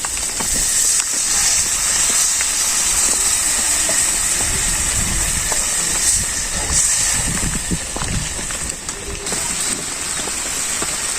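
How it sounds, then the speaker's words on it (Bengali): Water poured into a frying puti fish kalia curry sends up a loud, steady, rain-like hiss of steam and bubbling that lasts throughout. "এখন আমি হালকা পরিমাণে জল দিয়ে দিই।"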